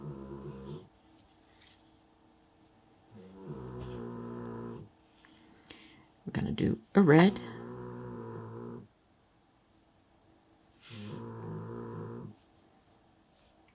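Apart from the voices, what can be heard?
dog snoring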